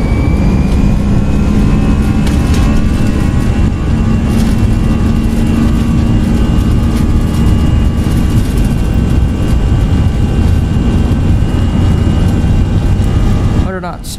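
Airliner jet engines in the X-Plane 11 flight simulator spool through a takeoff roll from Munich, a steady loud roar with whining tones that holds without a break and cuts off abruptly near the end.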